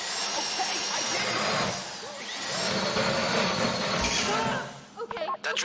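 Drill whirring during a GTA 5 heist, a continuous whining buzz that swells and dips before cutting out near the end, with people talking over it.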